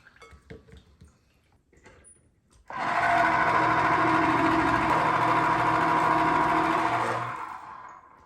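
An electric orange juicer starts after a few faint clicks and runs with a loud, steady motor whir for several seconds before spinning down.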